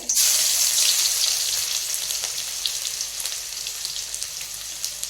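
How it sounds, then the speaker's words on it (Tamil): Cinnamon and cloves hit hot oil in a pan with a bright, loud burst of sizzling that gradually eases into a steady crackle, close up with no voices. "எண்ணெய் ஊற்றியிருக்கேன். பட்டை கிராம்பு போட்டுக்கலாம்."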